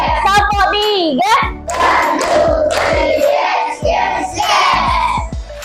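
A class of children performs a counted clap routine in a classroom, with sharp, near, rhythmic hand claps in short groups mixed with the children's voices calling out together.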